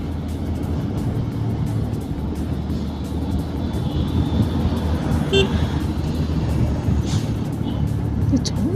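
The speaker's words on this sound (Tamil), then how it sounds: "சவுண்டு பெரிய வண்டி வந்த மாதிரி இருந்துச்சு சவுண்டு" A big vehicle rumbles past on a forest road near Munnar, a steady low engine drone swelling slightly toward the end, with faint horn-like tones and occasional speech mixed in.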